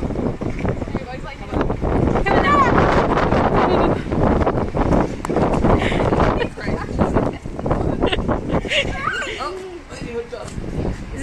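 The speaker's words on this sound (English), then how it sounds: "Is it windy, Lily?" Gusty wind buffets the microphone in a steady roar while people talk loudly close by.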